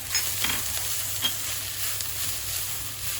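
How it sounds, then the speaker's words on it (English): Garlic stirred into frying Afghani mantu meat filling in a pan, a soft continuous sizzle with a few light scraping strokes, fairly quiet and without talk. "Again, we're only going to add half of the garlic. And stir it in."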